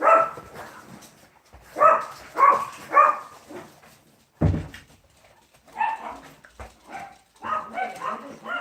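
Dog barking in short bursts, a few sharp yips close by, mixed with a person talking and reacting between the barks.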